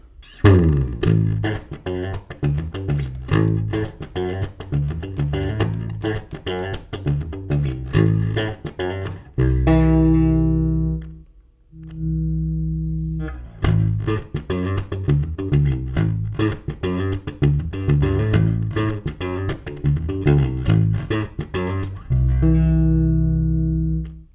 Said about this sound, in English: let's see what this bass sounds like